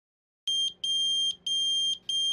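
An electronic buzzer in a Morris Minor beeps in four long, piercing tones with short gaps between them, loud and close, with no other sounds.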